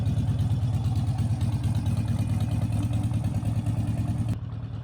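A Harley motorcycle engine idling up close, a loud, steady low rumble with a pulsing beat that holds for over four seconds, then drops suddenly to a quieter hum at the end.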